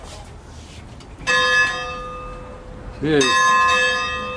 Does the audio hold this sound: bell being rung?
yes